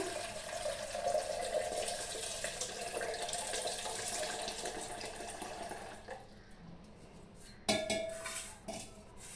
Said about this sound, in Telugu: ఒక గిన్నెలోకి వాటర్ తీసుకున్నాము